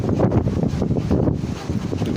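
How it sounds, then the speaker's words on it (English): A gust of wind blowing outdoors, heard as a steady, loud rushing buffet against the microphone with rumbling low-end bursts, no voices. "Look at that nice gust of wind."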